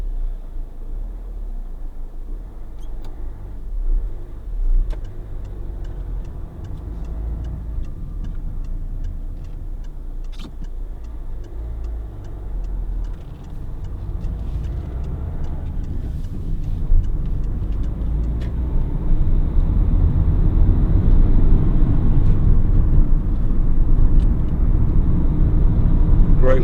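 A Peugeot 207 1.4 HDi 70 diesel panel van driving on a rough road, heard from inside the cab as a steady low engine drone and road rumble that grows louder toward the end, with faint ticks and rattles.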